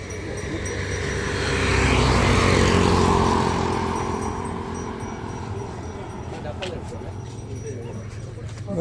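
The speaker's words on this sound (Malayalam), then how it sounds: "അതും വലിയ ഫ്ലൈറ്റാണല്ലോ" A large passenger jet roaring overhead as it comes in to land in Malaysia, swelling to a loud broad rumble then fading into the distance, while people talk nearby.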